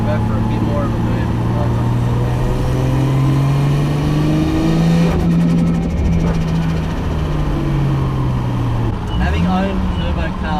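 A 500-horsepower Nissan R33 Skyline sedan does a burnout, its engine revving hard and loud with rising and falling pitch and sustained high revs, while people talk nearby.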